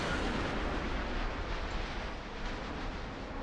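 Missile explosions in a jet combat video game, a dense continuous roar of blasts and rumbling detonations filling the whole moment at steady loudness, with no voices over it.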